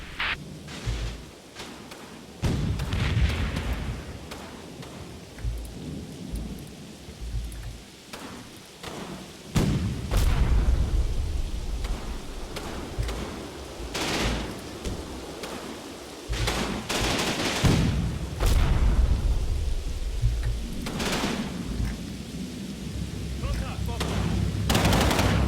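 Artillery fire mission in the Combat Mission Battle for Normandy war game, with repeated loud booming blasts and bursts of gunfire over rumbling battle noise across the whole stretch, near and far impacts mixed together.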